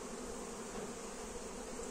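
Honey bees buzz in a steady, dense drone while a hive is opened for a pre-winter inspection and oxalic acid treatment, the hum continuous and fairly faint with no voices over it.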